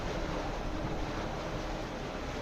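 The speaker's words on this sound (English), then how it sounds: "I'm struggling with the wind" Steady, roaring wind buffets the microphone on a boat off Saint-Tropez's Baie des Canoubiers, loud and continuous, mixed with the rush of water and no talking.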